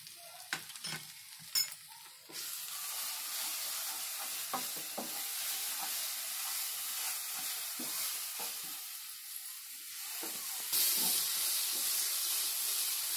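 Water poured into a pan of frying kofta curry masala, a loud sustained hiss and gurgle after a few scattered clicks, with sizzling continuing underneath and a brief louder surge near the end.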